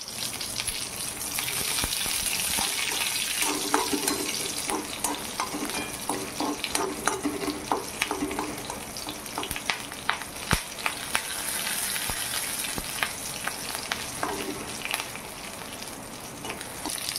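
Green chillies frying with garlic in a hot pan, a steady close sizzle with frequent stirring and scraping clicks throughout, no talk.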